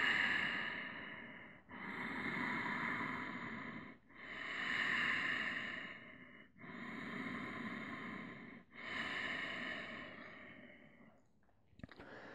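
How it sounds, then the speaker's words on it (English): Slow, even breaths drawn in and pushed out through the nose, close and airy, about five long cycles with brief pauses between them, alone in a quiet room. "Inhales through the nose, exhales out the nose."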